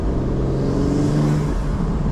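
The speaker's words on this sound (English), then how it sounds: "you buy an internal combustion engine because you want to hear the engine" A BMW G82 M4 engine fitted with a cold air intake runs steadily at low revs, a deep throaty rumble with a rising hum, close and loud, with no other sounds.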